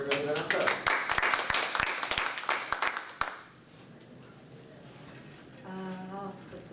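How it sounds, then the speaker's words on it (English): Brief, scattered clapping from an audience applauding the last speaker fades out after a few seconds, and a voice then talks over quiet room noise. "clap for our last speaker, everybody. Give it up."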